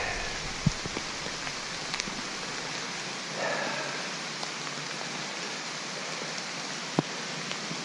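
Steady rain falls outdoors, a dense, even hiss of drops on surfaces with a few sharper close drips now and then, continuous and fairly loud with no talk.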